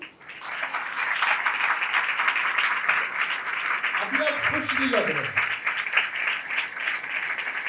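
Congregation at a Christian worship service applauding, steady broadband clapping throughout with a preacher talking over it.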